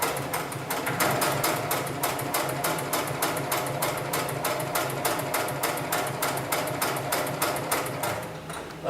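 A 733CS sewing machine runs steadily with its pedal pressed down, the needle hammering in a fast, even mechanical rhythm that stays loud and close throughout.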